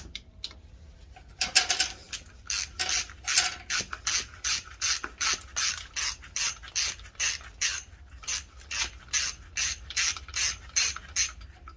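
A ratchet wrench loosens bolts on a Farmall Cub tractor's tappet cover, making a long run of quick, evenly spaced clicking bursts up close, repeated steadily with no talking.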